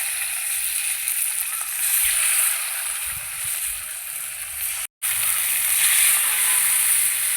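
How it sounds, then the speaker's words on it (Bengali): Steady, bright sizzling of koi fish (climbing perch) frying in hot oil in a wok runs throughout at close range, with a brief dropout near the end. "দিয়ে দেবো মাছগুলো কড়াইতে"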